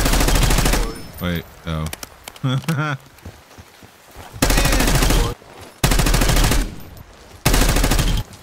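Loud bursts of automatic gunfire in the Black Ops 6 video game, several sustained volleys separated by short pauses, with a player's brief voice and in-game speech heard between them.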